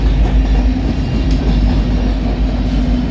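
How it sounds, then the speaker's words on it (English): A consist of EMD SD70ACe locomotives rumbles past close by, a loud, steady heavy diesel roar and deep rail rumble with faint wheel clatter throughout, no voices. "SD70 aces, all EMD consist."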